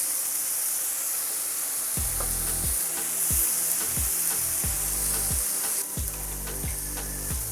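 Cabbage and onion fry in a pan with a steady hiss and sizzle, while repeated stirring or scraping knocks sound at a regular pace from partway through.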